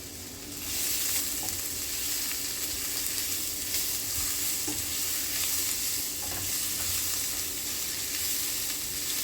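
Herbs and garlic sizzle steadily in a hot pan for a beef ragu, a dense continuous frying hiss with occasional scrapes of stirring, close and loud, no talking.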